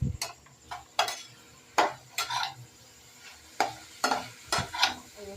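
Tomato, onion and spices for egg curry are stir-fried in a pan, with a faint background sizzle broken by about a dozen sharp spatula scrapes and taps against the pan, close and irregular, with no talking.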